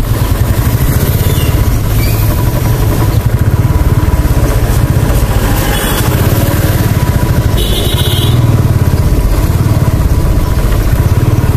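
A new Royal Enfield Bullet motorcycle engine idles steadily and loudly at close range, a continuous low thumping rumble that holds even for about twelve seconds with no talking.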